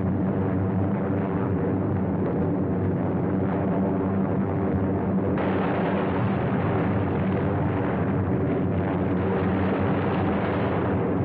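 Dense, continuous roaring rumble on an old archival film soundtrack as bombs fall over Gdynia harbor, loud and unbroken throughout, with a brighter, harsher surge midway.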